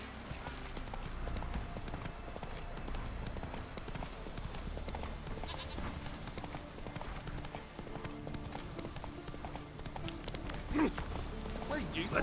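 Roach, a horse in The Witcher 3, gallops with rapid, steady hoofbeat clip-clops under game music and ambience, with a voice speaking partway through.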